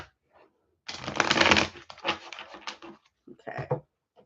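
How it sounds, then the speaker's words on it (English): Tarot cards being shuffled, with a brisk riffling burst followed by a few shorter shuffles and soft taps, close and clear with quiet gaps between. "one more shuffle"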